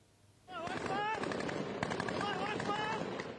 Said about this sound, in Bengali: বৃষ্টির মতো ছোড়া হচ্ছে একের পর এক গুলি